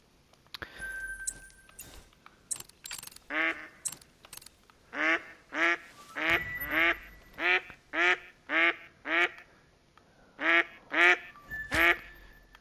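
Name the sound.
ducks quacking in video game theHunter: Call of the Wild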